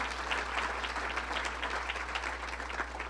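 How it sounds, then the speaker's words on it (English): Audience applause for the Sandy Hook families at a political speech, sustained dense clapping from a large crowd with a low electrical hum underneath. "let's give them a round of applause for what they've done, the Sandy Hook families"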